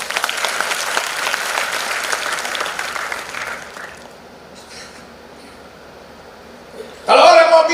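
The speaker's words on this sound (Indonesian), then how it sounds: "Yang setuju berikan tepuk tangan yang mulia." Congregation applauding during a church revival service in Bali, sustained clapping that tapers off, then a loud fresh burst of cheering and applause near the end.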